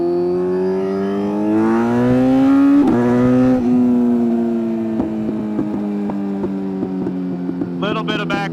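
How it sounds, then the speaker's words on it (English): A Kawasaki Z900 SE sport bike with block-off plates fitted, its exhaust revving up and easing down in loud, close throttle blips, ending in a brief crackle of backfire pops. "Little bit of backfire, but literally, not even exaggerating, I mean half."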